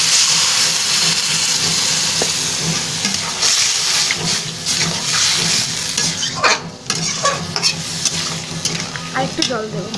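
Water goes into a pan of Bengali shukto, a vegetable curry, and sets off loud continuous sizzling and hissing steam with scattered clinks and stirring scrapes throughout.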